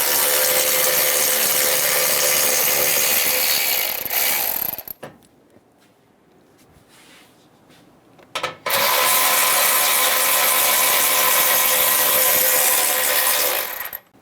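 A 13mm socket wrench ratchets off radiator bolts on a 2014-2018 Chevrolet Silverado, loud close rapid clicking in two long bursts separated by a quiet gap.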